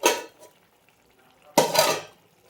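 A utensil stirs morola fish with bottle gourd greens and poppy seed in a pot, making two short scraping, clattering bursts separated by a quiet pause, close by.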